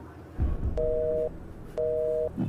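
Two short, steady electronic beeps of a telephone busy signal, evenly spaced, clear and close, with faint background noise between them.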